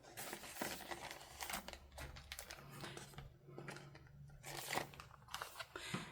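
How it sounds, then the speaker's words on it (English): Scissors trim excess paper during journal crafting, a series of close crisp snips and crunchy cuts mixed with paper rustling, faint and irregular. "I need to cut the excess off here"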